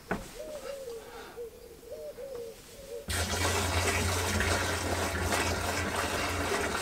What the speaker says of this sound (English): I'm going to whack this beer into the yeast bed on there with a bit of a splash